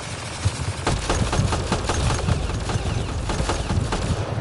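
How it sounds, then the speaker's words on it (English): Rapid, continuous minigun fire in the video game Mass Effect Andromeda, a loud, dense stream of shots lasting the whole moment with no pauses. "Oh, minigun. Minigun. Minigun!"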